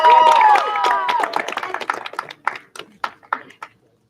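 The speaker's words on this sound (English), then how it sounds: "let's give a round of applause to Dakota Booker" Audience applause at an awards event for an assistant director: a whoop and cheering voices open over clapping, then the clapping thins into a few scattered, separate claps that fade out.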